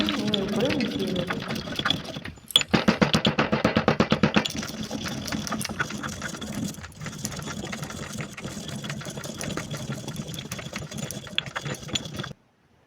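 A small electric grinder whirs as a roasted spice mix is ground into powder for egg prawn noodles, running in steady bursts with a brief sharp pulsing stretch near the start, loud and close throughout.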